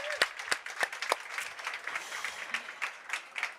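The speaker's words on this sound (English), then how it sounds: "A big applause for Rashin." A conference audience at a Women in Tech storytelling stage claps for a speaker: sharp individual claps at first, then a quieter, steady patter of applause with no talking.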